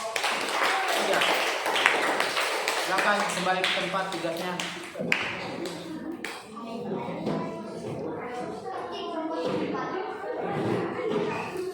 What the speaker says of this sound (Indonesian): Baik, tepuk tangan dulu buat kelompok